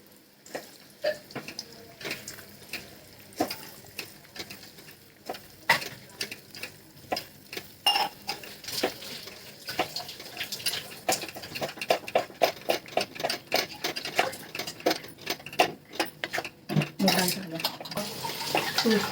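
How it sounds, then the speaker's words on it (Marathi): Ground moong dal being stirred in a pan, with a steady run of close scraping strokes that quicken into a dense rhythmic clatter toward the end, faint voice beneath. "मूग डाळ जी वाटलेली आहे ना ती टाकते आणि चांगली मिक्स करून घेते"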